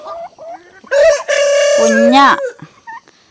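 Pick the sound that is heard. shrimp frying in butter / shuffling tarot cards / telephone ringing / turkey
turkey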